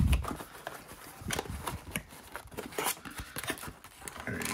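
A card blaster box torn open by hand: cardboard and plastic wrap rip and crinkle in bursts, with rustling handling noise between tears, close up and without speech.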